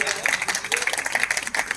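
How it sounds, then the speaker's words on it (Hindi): An audience at a Gayatri Mahayagya in Lucknow claps to welcome a guest, brisk dense applause from many hands, close and lively, holding steady for a couple of seconds. "सभी लोग ताली बजा के स्वागत करिए इनका"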